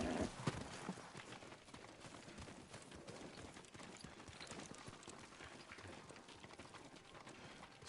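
Horse hooves clip-clop in a PS4 video game, a quick, steady run of faint, soft hoof falls under quiet background ambience.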